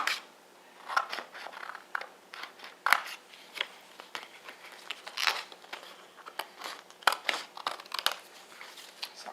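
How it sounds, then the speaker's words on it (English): Scissors snip repeatedly through paper in quick, irregular cuts, close by and fairly quiet, with crinkling between the snips. "I'm just going to use a pair of scissors and just do a rough cut from the sheet"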